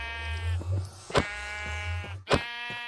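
Blocky sheep in Minecraft bleat in short, buzzy, tonal calls, two or three distinct bleats close up with brief thumps between them and no talking over them.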